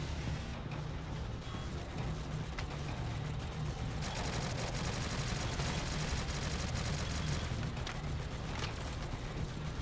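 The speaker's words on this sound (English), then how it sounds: "We got a sniper up top. We're going to go with the turret right there." Rapid gunfire and turret fire in the mobile shooter Shadowgun Legends, a dense, continuous barrage of shots and mechanical game effects at steady loudness throughout, with no talk.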